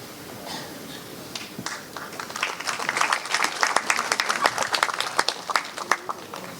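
Audience applause at a ceremony swells after a quiet start into brisk, fairly distant clapping that continues unevenly to the end, with some voices in the room.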